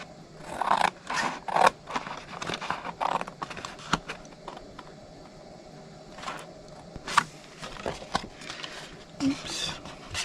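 Scissors cut paper along a score line while a cupcake box is being made, giving soft snipping and rustling in short bursts with pauses between, close and fairly quiet.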